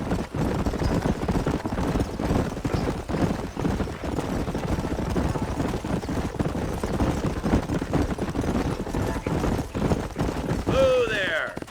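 Horses gallop in Red Dead Redemption, a steady dense clip-clop of hooves running throughout, loud and close, with a brief whinny near the end.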